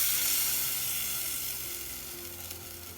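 Cream poured into a hot pan for a seafood pie sizzles steadily and close, a bright hiss that eases slightly over three seconds, with a faint low hum beneath.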